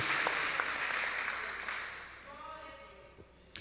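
Church congregation applauding during a morning service, a broad wash of clapping that fades steadily over a few seconds, with faint voices and a short tonal sound emerging near the end.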